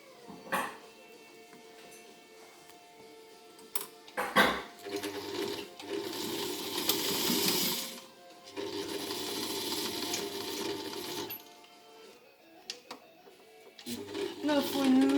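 An old sewing machine stitches a fabric mask in short bursts, its whirring, buzzing run starting and stopping several times with clicks and handling noises between, while someone talks quietly.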